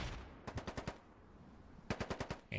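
Automatic gunfire in a Squad match: two rapid bursts of about five shots each, one early and one near the end, sharp and fairly close, with a quiet gap between them and no talk.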